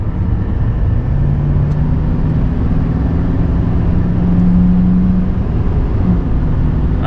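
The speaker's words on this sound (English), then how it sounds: "We're going to give it some acceleration just to show how much 900 pound-feet of torque gets you." A 2022 GMC Sierra Denali 3500 heavy-duty pickup with 900 pound-feet of torque accelerates onto a highway, its engine drone rising steadily in pitch under constant road and wind noise, heard from inside the cab.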